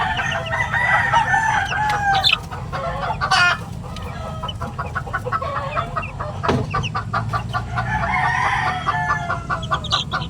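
Eleven-day-old farm chicks cheep and peep in a busy chorus, with a rooster crowing nearby and scattered clucks, a steady lively mix of bird calls from close by.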